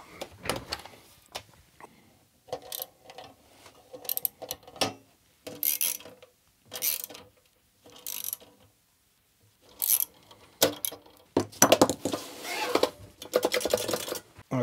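Parts of a joystick built from a cash box get tightened by hand, giving intermittent clicking, ratcheting and rattling of small metal hardware in short close bursts separated by pauses.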